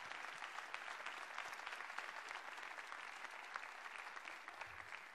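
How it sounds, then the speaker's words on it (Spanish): Audience at a stand-up comedy show in Córdoba clapping, a dense, even wash of applause that stays steady throughout, heard at a moderate distance with no voices over it. "Estaban aplaudiendo, ¿no?"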